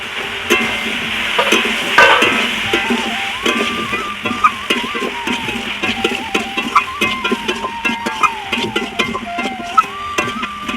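Soybean chunks with chili powder are stirred and fry in a pan, giving a steady sizzle with repeated scraping strokes of the spatula, close and fairly loud, with no talking.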